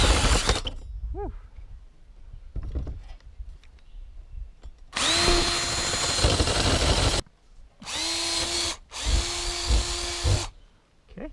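A power drill with a carbide-tipped bit cuts a hole through hardie board in three loud, close bursts of harsh grinding whine, separated by short pauses and quiet handling noises.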